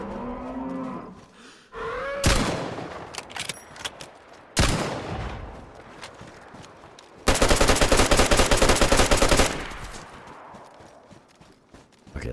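Loud bursts of SV98 rifle fire in the Deadfall survival game, with several sharp shots and a dense sustained volley near the end over rumbling game ambience.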